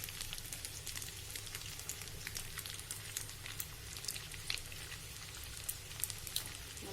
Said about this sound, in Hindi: चाप हमारी देखिए अच्छे से फ्राई हो गई है, एकदम रेड हो गई है अच्छे से